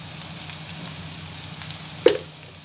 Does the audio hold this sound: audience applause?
no